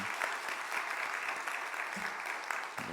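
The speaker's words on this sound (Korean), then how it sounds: "다시 한번 박수 한번 쳐주시겠어요?" A church congregation applauds during a Sunday worship service, steady dense clapping from many hands filling the room without a break, fairly loud and continuous, with no voices rising above it.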